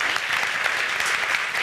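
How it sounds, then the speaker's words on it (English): Audience applause at a conference on sustainable solutions, a dense continuous clapping from a large crowd at steady volume throughout. "And a round of applause."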